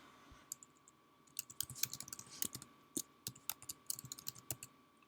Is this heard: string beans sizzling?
no